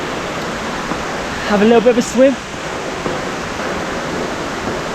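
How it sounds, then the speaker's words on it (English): Rushing water of the Kuang Si waterfalls, a steady broadband roar filling the scene, with a person briefly speaking over it midway. "the waterfall's amazing, honestly"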